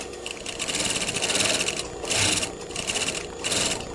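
Sewing machine stitching a dart in fabric, a fast close whirring run broken into several bursts with brief slowdowns between them.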